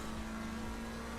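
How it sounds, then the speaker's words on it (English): A McLaren GT3 race car engine in the racing game Assetto Corsa Competizione drones steadily at high revs, a loud continuous buzz with brief whooshing shifts of pitch. "listen to the engine on this"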